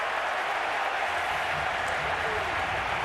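Stadium crowd noise at an NFL football game, Carolina Panthers at Atlanta Falcons, a steady broad roar of cheering fans throughout.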